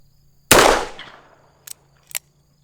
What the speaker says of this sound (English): let's shoot single action at the head from 10 yards away downrange